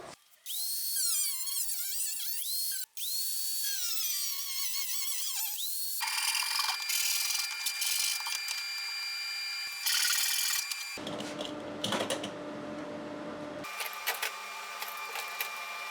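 Power tool cutting pieces out of a wooden trapezoidal bass case: a whining motor that rises and shifts in pitch, then harsher grinding and buzzing cutting passages with abrupt changes, close and steady throughout.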